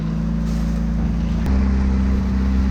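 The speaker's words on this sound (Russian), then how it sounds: "Машина потихоньку, но ползет вверх." Low, strained engine hum from a Chrysler 200 creeping slowly uphill as traction control works, with a tonal whine that drops and deepens abruptly partway through, steady and fairly close.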